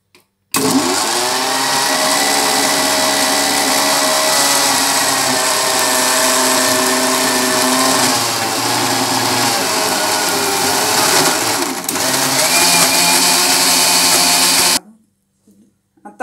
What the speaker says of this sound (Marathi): आणि मिक्सरला फिरवून घेऊया.